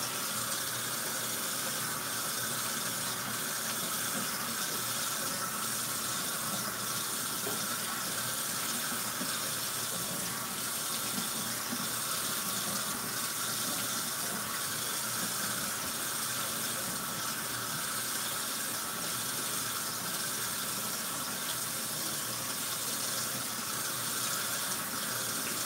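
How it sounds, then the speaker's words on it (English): Tap water runs steadily into a sink during a nighttime skincare rinse, a continuous broadband rush lasting the whole stretch with no talking. "I'm gonna rinse it off"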